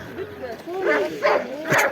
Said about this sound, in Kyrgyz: күчүктөр иттер азыраак экен.